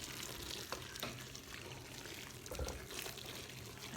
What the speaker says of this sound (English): So just put the water in there.